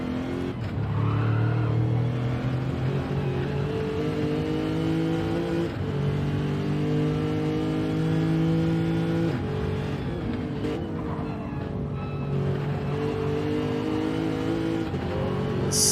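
Lexus and McLaren 650S GT race cars roar through a Le Mans racing video game, a loud, continuous engine drone whose pitch climbs and drops with gear shifts, with faint tire scrubbing and no voices.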